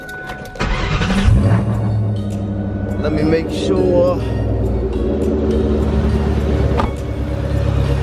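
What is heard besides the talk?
car engine running after oil change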